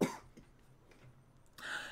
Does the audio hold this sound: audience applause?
no